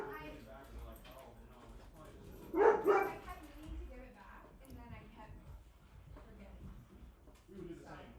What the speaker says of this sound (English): I'm assuming a dog just got dropped off for us to wash today.